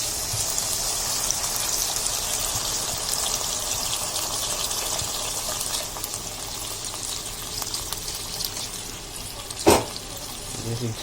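Water is poured into a hot pan of masala for a fish curry (fish jhal served with pakhala rice), making a continuous loud hiss and bubbling boil, with a sharp splash-like burst near the end.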